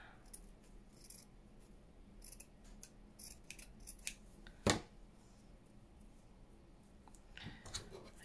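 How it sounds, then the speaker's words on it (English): Scissors cut fabric for a craft project in a series of light snips and rustles, with one sharp, distinct cut near the middle and quieter handling sounds before and after. "Just cut that bottom bit."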